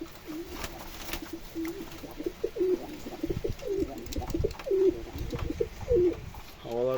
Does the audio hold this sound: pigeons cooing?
yes